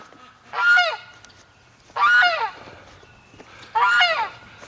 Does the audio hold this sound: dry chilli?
no